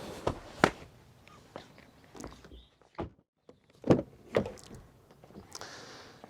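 Rear door of a Volkswagen Tayron SUV opening with a latch click and clunk among several handling knocks and rustles, close by and moderately loud, with no talking.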